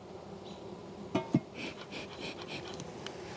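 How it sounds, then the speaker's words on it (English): Honeybees buzz in a steady, close drone under a hive's screen bottom board, with a couple of soft knocks and brief louder passes as bees fly near. "there are a ton of bees"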